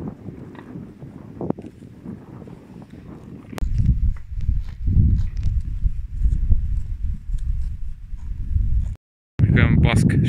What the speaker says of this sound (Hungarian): Itt vannak a lovak.